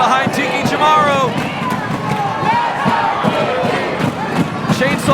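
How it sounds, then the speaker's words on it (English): A wrestling crowd roars and cheers loudly and steadily for Tiki Chamorro at a women's pro wrestling event, with shouts and whistles rising out of a dense, continuous wall of voices. "Fans getting behind Tiki. This crowd firmly behind Tiki Chamorro."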